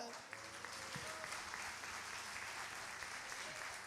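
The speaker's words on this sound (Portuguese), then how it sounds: "Vamos dar um aplauso seu pela vida dela?" Congregation applauding during a church worship service to honour a girl's birthday; a faint, steady wash of many hands clapping from a distance continues without a break.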